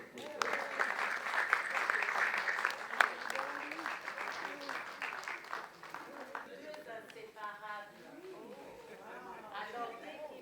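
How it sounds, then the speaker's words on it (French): Audience applause at a Down syndrome awareness event for mothers, steady clapping filling most of the clip and fading toward the end as voices and chatter take over. "est-ce qu'on peut encore applaudir pour eux?"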